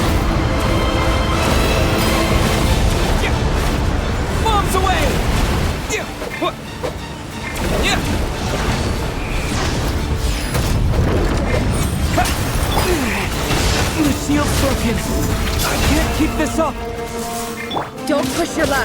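Bombs burst in a video game battle: loud, dense rumbling with repeated crashing blasts piling up almost continuously, easing briefly before the barrage resumes.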